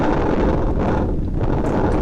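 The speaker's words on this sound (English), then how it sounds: "the wind is crazy" Strong wind buffets a microphone outdoors, a loud, constant roaring rumble that fills the whole clip with no other sound coming through.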